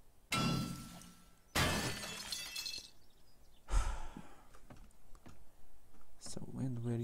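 Glass shatters twice in quick succession in 7 Days to Die, loud and sharp, followed by scattered crunches and clicks, with a player talking faintly in between.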